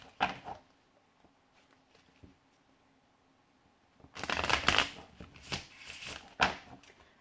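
A few soft card flicks, then a burst of brisk riffle shuffling with crisp, rapid flutters, close and moderately loud, ending in sharp snaps.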